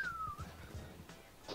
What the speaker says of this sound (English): I had a slide whistle.